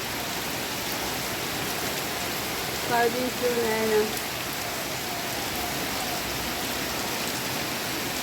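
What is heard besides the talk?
heavy rain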